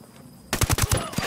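Automatic gunfire in the tactical shooter Ghost Recon Wildlands: a sudden close burst of about six rapid shots in even rhythm, loud and sharp, with a quiet hum before it.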